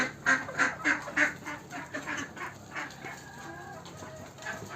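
Free-range chickens cluck and ducks quack in a lively, rhythmic burst at first as they come indoors from the rain, then settle into softer scattered calls nearby.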